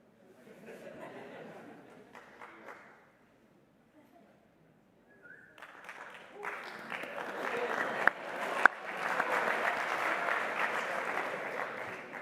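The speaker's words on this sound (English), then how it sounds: "so we can give you a proper round of applause" Applause at a university master's graduation ceremony rises from scattered faint clapping to a full, dense ovation from a large hall crowd, with a couple of sharp claps and light laughter.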